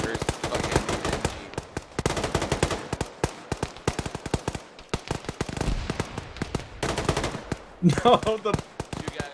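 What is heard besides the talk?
machine gun fire from bunker HMG, from an Arma video game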